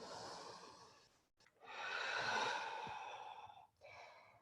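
Steady deep breaths during a vinyasa yoga flow: a long airy exhale, a brief pause, then a fuller breath held for about two seconds before fading, close and clear with no talking.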